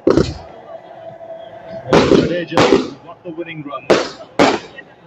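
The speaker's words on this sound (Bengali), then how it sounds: "আতশবাজি ফাটিয়ে সেলিব্রেশন চলছে।" Fireworks bursting during a street celebration after India's Champions Trophy final win over New Zealand, five or six sharp, loud bangs in uneven clusters with crowd noise and voices between them.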